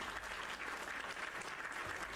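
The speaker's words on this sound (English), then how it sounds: "Let's give Cyan a round of applause for the super chat" Applause during a Minecraft livestream, a brief steady burst of crowd clapping, fairly faint and even throughout with no talking.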